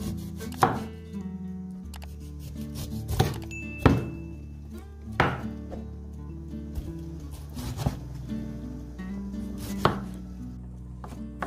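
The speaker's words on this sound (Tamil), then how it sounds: "அன்னாசியை கட் பண்ணி எடுப்போம் அப்படின்னு தான் கட் பண்ணி எடுத்துட்டிருக்கிறேன்" Half a pineapple is cut into small bite-size chunks with a knife for a Sri Lankan Akurana wedding-style tomato jam, heard as heavy, evenly spaced chopping thunks on a board, about one every second or so, close and clear without talk.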